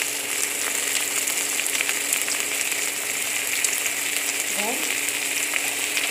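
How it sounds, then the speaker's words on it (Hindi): Tomatoes, peas and onion fry together in a pan for white sauce pasta: a loud, continuous hiss and sizzle throughout, with a single brief spoken word partway through. "इन सबको हम फ्राई कर लेंगे"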